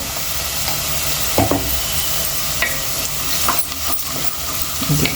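Frying in a pan for stuffed brinjal curry produces a loud, dense sizzle throughout, with several sharp metallic clinks and scrapes of a spoon stirring the pan.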